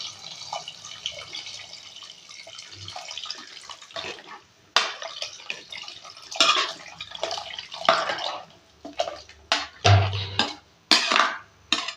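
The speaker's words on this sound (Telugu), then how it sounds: "ఒక్క నిమిషం వాటర్ పోద్దాం." Water is poured into a pot of mutton curry in splashy bursts with dripping and trickling between them, close and fairly loud, with no talking.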